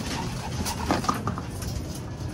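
Pigeons in a loft being fed make a soft, busy mix of cooing, shuffling and pecking, close by and continuous, with no voices over it.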